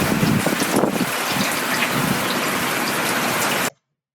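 Steady rain effect from a video-editing sound library, a dense continuous hiss of falling drops, loud and alone for several seconds before cutting off abruptly to silence.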